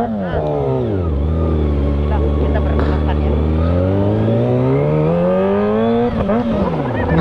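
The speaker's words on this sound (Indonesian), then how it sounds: "nyobain motor ZX" A Kawasaki ZX-25R sport motorcycle engine revs hard, its pitch dropping then climbing steadily in a long sustained howl, loud and close.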